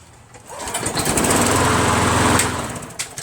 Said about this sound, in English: So I'm just going to start this up. A little bit of smoke comes out the muffler.